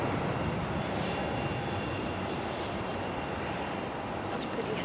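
A heavy Boeing 737 jet takes off down the runway at Raleigh Durham airport, a loud continuous broadband engine roar holding steady from start to end.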